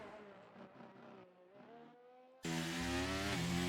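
Red Bull Formula 1 car engine in a racing video game at Imola, a loud sustained high-pitched whine that jumps sharply louder and brighter halfway through as the car passes close, with a softer engine drone before it.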